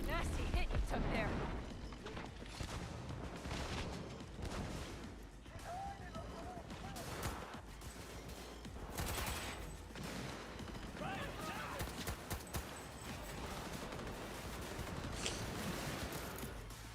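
Gunfire in Cyberpunk 2077: sharp bursts and rattling volleys of in-game weapons, loud and repeated across the scene, with someone talking over the shooting.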